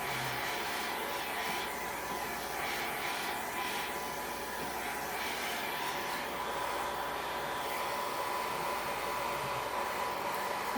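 A hair dryer blows steadily on a freshly painted craft piece, a loud continuous whooshing roar with a faint tonal whine that holds unbroken close by.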